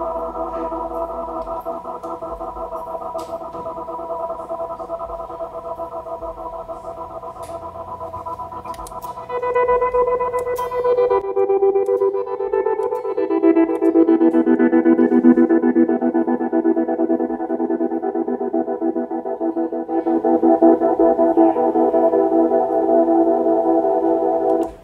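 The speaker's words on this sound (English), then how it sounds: "once I turn the tremolo on, I can manipulate that reverb sound." An electric guitar with a long reverb tail shaped by a tremolo effect gives sustained, washy chords that pulse and swell, loud and alone with no talking, and grow denser and brighter partway through.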